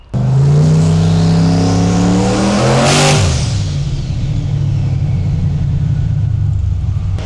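A 765-horsepower Ford Mustang on pump gas with Holley EFI revs hard on a dyno, a loud rising engine roar that peaks, then drops back to a steady heavy rumble.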